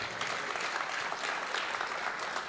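A church congregation claps together at a Sunday morning service, a short burst of even, continuous applause heard alone at moderate level.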